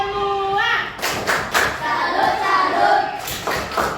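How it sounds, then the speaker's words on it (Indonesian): Children in a classroom do a rhythmic salute clap, a run of sharp hand claps and thumps in a steady pattern, close and loud, with young voices chanting over it. "tepuk salut untuk kita semua."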